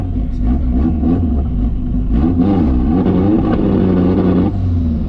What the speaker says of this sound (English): that was me off the throttle